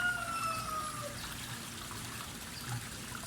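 Water runs out of a pool's exit outlet onto a street in Laguna province, making a faint, steady trickle that continues throughout with no talking.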